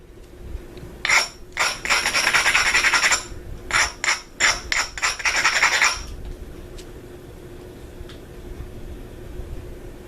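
A flaking tool works a stone point, producing a series of close, scratchy rasping strokes in quick clusters over several seconds, then quiet.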